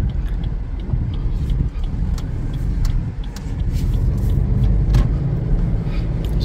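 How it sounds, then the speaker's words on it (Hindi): A new zero-kilometre 2023 Suzuki Alto driving along a road, giving a steady, close engine and road rumble that stays at an even level from start to end. A few faint clicks and knocks sit above the hum, and no one speaks. "जीरो मीटर नई गाड़ी की एक ड्राइव"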